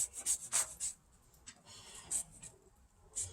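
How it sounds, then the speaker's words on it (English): A lime being zested against a small handheld grater, a series of short, soft, close rasping strokes in an irregular rhythm with brief pauses between them. "I'm going to start by getting some zest of this lime into my bowl. And I just rub it on here and get that zest going."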